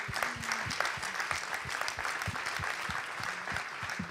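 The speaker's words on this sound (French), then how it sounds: "Merci de nous applaudir." An audience at a conference on bereavement breaks into applause, a dense, even wash of many hands clapping together at moderate volume, continuous throughout with little talk.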